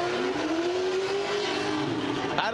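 Drift cars competing at Formula Drift at Road Atlanta, heard as a loud engine wail holding a high revving note with tire noise, ending in a brief sharp burst.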